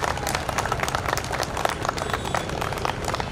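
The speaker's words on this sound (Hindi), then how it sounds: "एक बार आकाश जी बागरीचा के लिए जोरदार तालियों से उनका अभिवादन करें" Crowd applause at an outdoor public rally marking Subhash Chandra Bose's birth anniversary in Udaipur, a dense, steady clapping texture with scattered sharper claps throughout, moderately loud and continuous.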